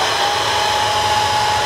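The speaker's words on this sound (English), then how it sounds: "So you could either wait for it to dry or get a hair dryer" A hair dryer blows steadily at close range over a latex makeup layer, a constant loud whooshing hum with an even airflow tone that doesn't change throughout.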